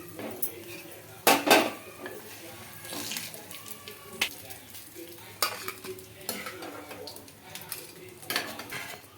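Ajwain leaves frying lightly in oil in a pan, a soft sizzle under sharp metal clinks and scrapes of a spatula and utensils, with a few louder clatters.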